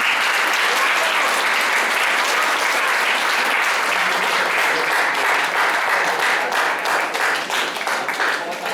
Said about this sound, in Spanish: Yo quisiera que les brindáramos a ellos un fuerte aplauso y muchas gracias por el tiempo